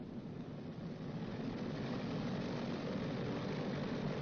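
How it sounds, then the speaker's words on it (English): A B-29 bomber's number 1 engine runs up with its throttle advanced to 2000 RPM, a loud, steady propeller-engine roar that holds constant throughout. "Advance number 1 throttle to 2000 RPM."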